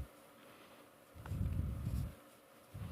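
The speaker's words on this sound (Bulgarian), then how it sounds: "Пчели." Bees buzzing in Minecraft, a low droning hum that swells for about a second and a half, fades, then returns briefly near the end over a quiet background.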